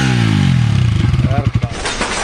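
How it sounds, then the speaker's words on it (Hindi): A Bajaj Pulsar RS200 BS6 motorcycle running with no exhaust fitted gives a loud, close engine note that drops in pitch, then breaks into sharp, throaty revving bursts before settling. "और सुनते हैं इसका एग्जॉस्ट नोट कैसा आ रहा है इस टाइम"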